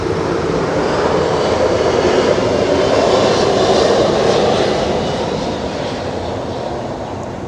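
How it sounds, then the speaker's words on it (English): A fixed-wing airplane passes overhead as a steady, loud engine roar that swells toward the middle and slowly fades, with no voices over it. "Got airplane guys, got airplane."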